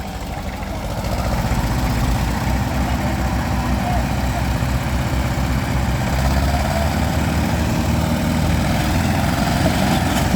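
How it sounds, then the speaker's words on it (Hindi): Several tractor engines idle after starting, a continuous loud low diesel chugging and rumble with steady vibration that runs unbroken throughout. "दोस्तों ट्रैक्टर स्टार्ट हो गए हैं।"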